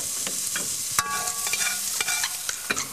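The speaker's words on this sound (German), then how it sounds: "In einem grossen Topf Speckwürfel knusprig braten." Diced bacon cubes fry until crisp in a large pot, giving a steady crackling sizzle with scattered pops and occasional stirring scrapes, close and fairly loud with no voices.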